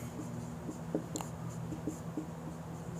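Chalk or marker writing a definition on a classroom board, a quiet steady scratching with a few short taps, close and alone over a low room hum.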